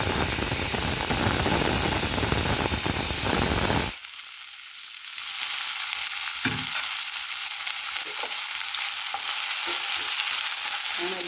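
Mustard seeds spluttering in hot oil, a loud dense crackling hiss close by that suddenly drops and then picks back up more quietly, with no talk.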